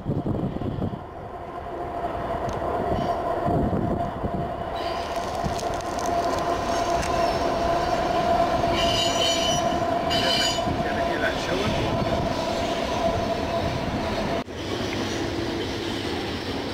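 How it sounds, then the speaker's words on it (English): A train rolls past nearby with a long, steady rumble of wheels on the rails and a sustained metallic wheel squeal, while people talk faintly in the background. "Here comes another train."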